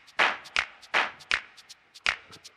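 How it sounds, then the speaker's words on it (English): A hand-clap sample from a Roland Fantom 0 synthesizer sounds in a steady backbeat pattern, bright crisp claps alternating with softer ones and light ticks between, close and dry with no talking. "And the third pattern is the same thing with a clap."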